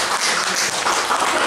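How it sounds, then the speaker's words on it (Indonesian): A Sunday church congregation gives a dense, continuous wash of applause, loud and close, filling the space without any voice on top. "Beri tepuk tangannya ya."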